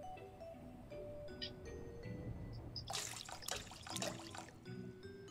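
Water pours into rye flour dough in the video game Bakery Simulator, a faint, quiet splashing gush that rises midway and fades, with no talking.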